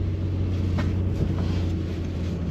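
A 2014 Nissan Frontier pickup rolls down the road, its engine and tyre rumble a steady low drone from inside the cab, with no talk.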